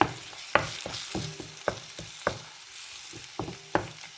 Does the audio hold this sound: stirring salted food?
yes